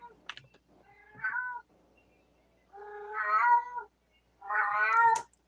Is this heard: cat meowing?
yes